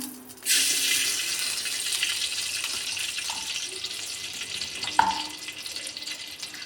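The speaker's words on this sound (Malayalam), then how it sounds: "ചൂടായതിന് ശേഷം നമുക്ക് 1 ടേബിൾ സ്പൂണോളം നെയ്യ് അതിലോട്ട് ഒഴിച്ചു കൊടുക്കാം." Ghee is poured into a hot pan for a Vishu adaprathaman, and a sudden sustained hiss of sizzling follows, fairly soft and close, with a couple of small clinks and no talk.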